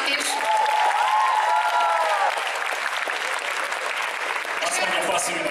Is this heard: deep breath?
no